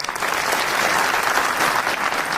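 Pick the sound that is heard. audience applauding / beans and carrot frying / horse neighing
audience applauding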